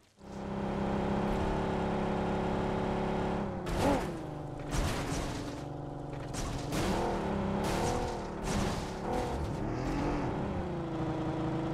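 In PUBG Mobile a car engine drones steadily and close, then revs and shifts pitch repeatedly as sharp bursts of other noise cut in, with no talking.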